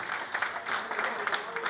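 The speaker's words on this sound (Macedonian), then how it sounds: "еден аплауз голем." Applause at a Teteks Tetovo football generations reunion in 2025, steady and moderate, with a broad dense patter of clapping held throughout the short stretch.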